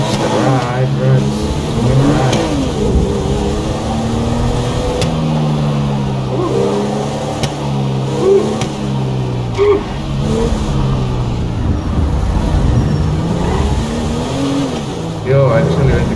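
In the video game GTA 5, a car drives and revs with a steady mid-pitched engine drone that rises and falls, heard under continuous casual talk from a player.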